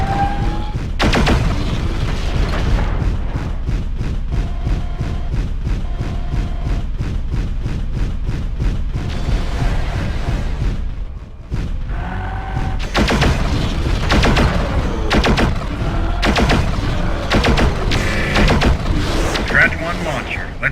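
Rapid, heavy booms and crackling blasts roll on almost without a break as a destroyed missile launcher explodes in Mechwarrior 4: Vengeance, loud and dense, with a voice speaking over the barrage.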